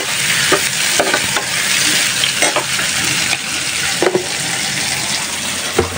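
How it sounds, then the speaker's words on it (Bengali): Garlic frying lightly in a pan, a steady close sizzle broken by several sharp scrapes and taps of a spatula, with no one speaking. "রসুনগুলো হালকা একটু ভাজবো।"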